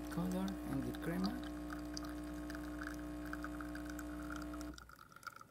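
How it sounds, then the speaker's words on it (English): Water runs steadily from a Delonghi Magnifica espresso machine with a new thermoblock and water pump, a constant close hum with faint trickling, while a voice talks over the first second before the flow cuts off near the end. "Good water flow coming out of the machine"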